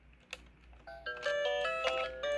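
An electronic ringtone with a bright, repeating melody of tonal beeps builds up and keeps playing steadily, close by, with no talking.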